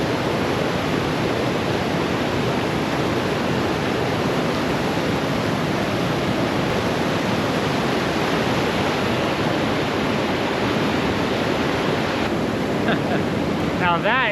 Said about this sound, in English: Coming up on our first waterfall, or I guess river.